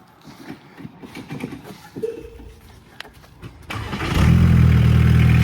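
Barn find VW Caddy with no working brakes cranks after a few quiet clicks and knocks, then catches and roars into a loud, steady idle, close by.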